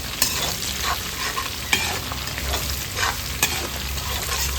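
Chilli chicken stir-frying in a pan with red and green chillies, a steady loud sizzle broken by a few sharp scrapes of the spatula across several seconds, with no voices.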